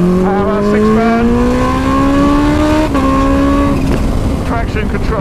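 A Kawasaki Ninja H2 motorcycle accelerating hard in third gear, its engine note rising steadily and loud up close, with a brief dip as it shifts and climbs again, wind roar underneath.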